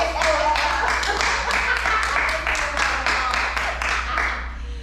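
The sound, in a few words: round of applause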